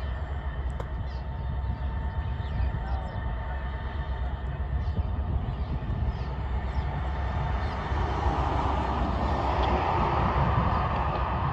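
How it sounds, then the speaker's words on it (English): A heavy Montana Rail Link SD70 diesel locomotive hauling an empty coal train rumbles steadily past with a continuous low drone, the noise swelling slightly louder toward the end as the train passes close by. "to the foreground was another empty coal train with my first ever Montana Rail Link SD-70"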